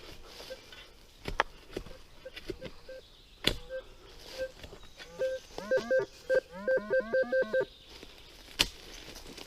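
A metal detector sounds while treasure hunting for medieval finds, giving short electronic tones and a run of rapid warbling beeps in the middle, with faint talk and soft digging noises around them.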